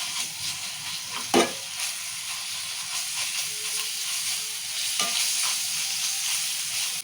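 Ginger garlic paste frying in hot oil for a tomato curry gives a steady, close sizzle with a soft broadband hiss, broken by a couple of sharp utensil scrapes against the pan; no voices.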